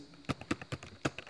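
Typing on a computer keyboard into an MS Word document, a quick uneven run of close key clicks under a voice speaking Persian.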